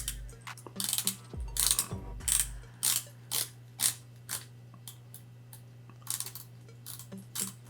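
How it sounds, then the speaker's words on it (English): The loose bidirectional bezel of a Borealis Estoril 300 GMT dive watch is turned in short spurts, giving close, crisp clicking ratchet bursts in an irregular rhythm over a faint steady hum. "Let's listen to the bezel action."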